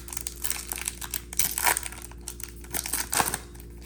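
Foil wrapper of a Donruss Series 2 trading card pack being ripped open by hand, close crinkling and tearing in irregular bursts with short louder rips between quieter rustles.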